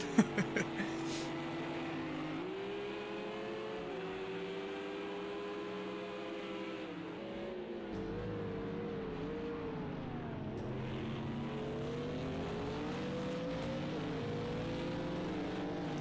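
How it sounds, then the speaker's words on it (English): Engine drone from a pack of GT3 race cars circling the Algarve circuit in Project Cars 2, a steady layered howl of several motors rising and falling in pitch as they shift, continuous and fairly loud throughout with no voices. "I like seeing a whole bunch of race cars going fast."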